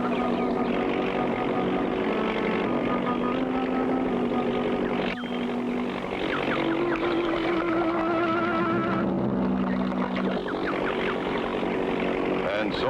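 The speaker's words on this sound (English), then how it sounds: "I hear their engine." A steady engine drone in a Clutch Cargo cartoon runs throughout, with a low continuous hum and faint higher tones shifting pitch, while voices and music-like sounds play over it.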